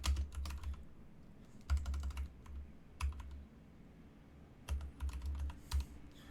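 Computer keys clatter in close, quick bursts of typing with short pauses between them, with no voices.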